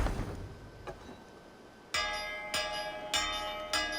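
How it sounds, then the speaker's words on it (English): A hand bell rung to open a feast in an Anglo-Saxon village setting strikes four times at a steady pace, each ring loud and clear, metallic and lingering. "So if I ring the bell,"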